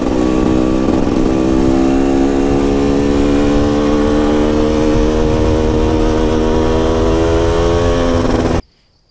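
A GasGas motorcycle engine runs hard and close, with a loud, steady rising drone as it climbs through six gears before cutting off sharply at the end.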